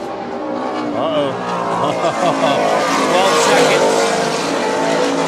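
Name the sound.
Super Cat racing powerboat passing at speed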